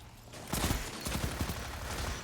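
Rapid gunfire from an SMG-like weapon in the video game Destiny, close-range fight, a few quick bursts of shots over a steady game background, fairly loud.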